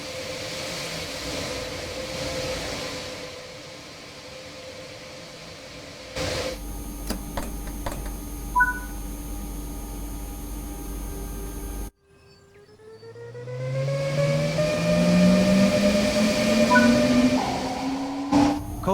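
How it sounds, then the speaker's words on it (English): A train engine hums steadily, then after a sharp cut a rising whine builds in pitch as the locomotive gains speed on the Kassel-Würzburg high-speed line in Train Sim World 3, with electronic game-like tones. "The locomotive is now ready to go. Release the train brake and use the throttle to apply some."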